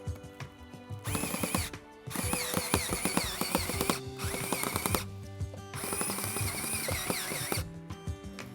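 Drilling a hole in a hand piece: a loud close ratcheting, geared whir in bursts of a second or more, separated by short pauses, with no talk.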